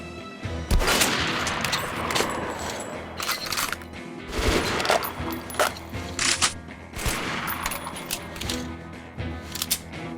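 Gunfire in the video game Metro: Last Light, with repeated sharp shots and short rapid bursts from several weapons, loud and close, spaced irregularly across the clip.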